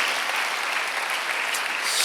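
A church congregation at a Sunday worship service claps together, a dense, steady wash of applause filling the room for a couple of seconds.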